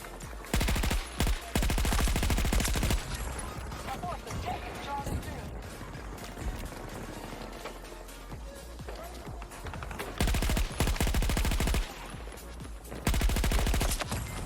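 Gunfire in the Battlefield 2042 video game: rapid automatic bursts and repeated sharp shots, loud and close, with short pauses between volleys and a continuous roar of combat underneath.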